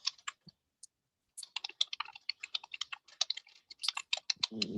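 Rapid, irregular keyboard typing fills most of the clip, crisp clicks clustered in quick bursts after a brief pause near the start, close and fairly quiet, with no talking.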